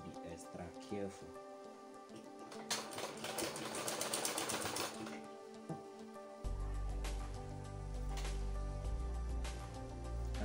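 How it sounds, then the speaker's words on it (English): A sewing machine stitching a front pocket runs in a fast, even patter, strongest in a burst of a couple of seconds, then drops to a quieter steady run. "Make sure that your sewing will also hold the pocket up so that it won't shift."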